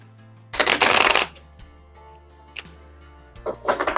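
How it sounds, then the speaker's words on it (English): Tarot cards, still new and slippery, are shuffled in two quick bursts of riffling and flapping, close and crisp, with a soft tap between them and no talking. "Let me do one more shuffle."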